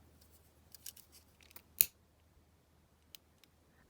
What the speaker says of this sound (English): just snip that down